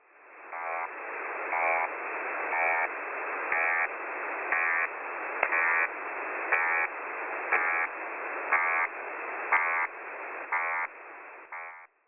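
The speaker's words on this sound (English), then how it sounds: "Another signal popped up that same evening on 5782 kHz, an equally good signal and with the same mini buzzing sound as the others noted." A shortwave radio signal on 5782 kHz holds a steady band of static hiss, broken by a regular series of short buzzing pulses about once a second, loud and continuous with no voices.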